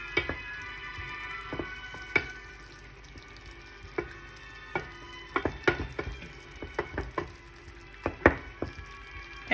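Turmeric and red chili powder cook in a pan for channa masala, a quiet sizzle broken by irregular clinks and scrapes of a spoon against the pan, close and without voices.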